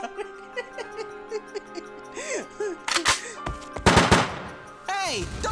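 Gunfire in the mobile game Fate/Grand Order: rapid bursts of game shots and impacts break out midway and again near the end, mixed with chirpy effects and playful voice-like sounds from the game.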